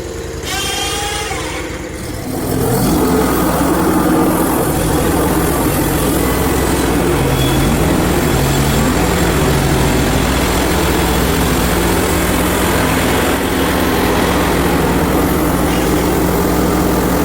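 A chainsaw with a new engine idles briefly, then revs up and cuts steadily into a crooked log. The loud engine roar holds for a long continuous stretch.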